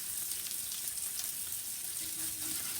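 Stuffed burgers fry in a pan with a steady, close hiss of sizzling fat that holds at an even level throughout, with no talking.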